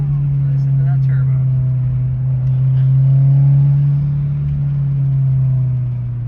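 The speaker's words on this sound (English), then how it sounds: "Listen to that turbo." A turbocharged 380 hp Subaru STI held in third gear on a winding mountain road, its engine droning loud and steady with a gentle swell in revs, heard from inside the car.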